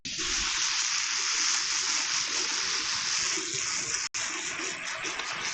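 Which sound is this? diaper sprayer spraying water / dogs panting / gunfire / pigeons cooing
diaper sprayer spraying water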